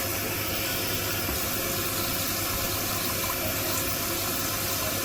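Warm water pours steadily onto compressed soil discs for vegetable planting, a continuous gushing, splashing stream that holds even for about five seconds, close and fairly loud.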